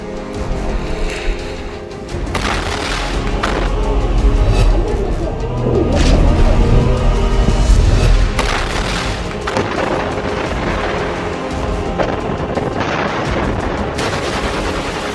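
Heavy gunfire and explosions ring out from RPG, thermobaric grenade and rocket attacks between Hamas fighters and Israeli troops at close range, with rapid bursts, deep booms and sharp cracks layered under a voice.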